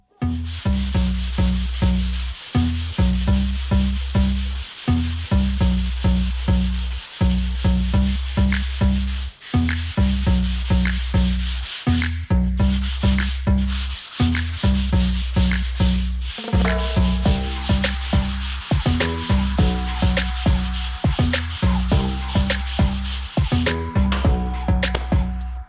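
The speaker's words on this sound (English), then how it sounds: "hopefully we'll get these two panels, these two fenders sanded down, ready for primer" Steady rhythmic sanding of the fenders of a 1952 Chevy Styleline, with repeated back-and-forth rubbing strokes in quick succession, loud and close, continuing without pause and with no talking.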